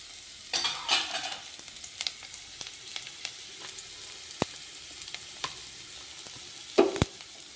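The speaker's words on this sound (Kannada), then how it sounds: "ಈಗ ನೋಡ್ರಿ ಈರುಳ್ಳಿ ಬೆಳ್ಳುಳ್ಳಿ ಮೆಣಸಿನ್ಕಾಯಿ ಹಾಕಿದ್ದೀನಲ್ಲ ಈಗ ಫ್ರೈ ಮಾಡ್ಕೊಳ್ಳಿ" Onion, garlic, and green chilies fry in a pan for methi dal, a steady close sizzle broken by scattered spatula taps and stirring scrapes, with a louder clatter near the start and end.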